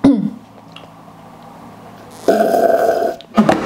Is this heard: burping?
yes